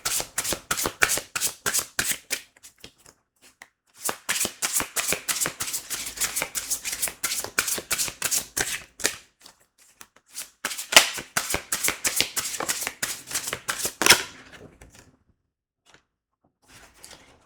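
Vintage Wisdom Oracle cards being shuffled by hand: close, crisp riffling and slapping in rapid bursts, broken by short pauses, ending in a few soft taps, with no talking.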